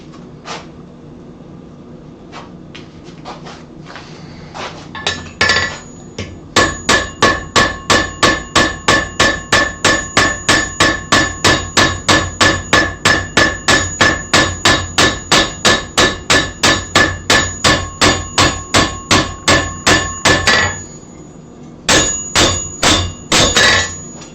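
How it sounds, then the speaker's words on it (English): A straight peen hammer draws out hot metal on an anvil at a forge, with a few scattered blows first, then a long, steady run of loud, evenly spaced ringing strikes, a brief pause, and a final short burst of hits. "I'm going to take my straight peen because I'm going to try to draw out some more length on it"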